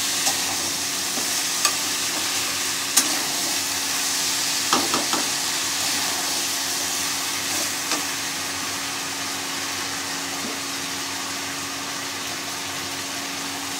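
Spices and parshe fish for a Bengali jhol sizzle steadily in a pan close by, with scattered sharp ticks and scrapes of a spatula stirring, and no talking over it.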